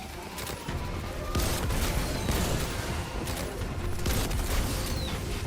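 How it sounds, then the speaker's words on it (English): Rocket launcher fire in the Destiny video game: dense, continuous rumbling blasts and explosions, loud and sustained, with sharper bursts near the start, middle and end. "We have a rocket launcher."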